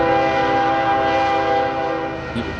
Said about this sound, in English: Sounds like it might be a train noise